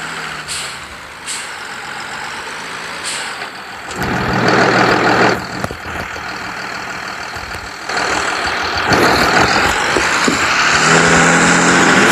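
A mid-size 70 HP 1990s tractor engine in Farming Simulator 23 rumbles steadily, idling low then revving louder twice, with a sharp hiss partway through and no talking.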